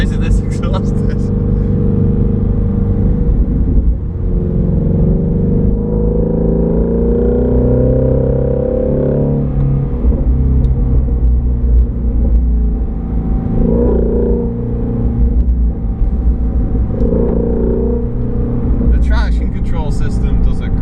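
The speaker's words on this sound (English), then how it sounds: "I can't believe how noisy this exhaust is." A Shelby GT350 driven in snow, its exhaust a heavy, continuous rumble with swells of revving and brief engine surges, loud throughout while someone talks over it.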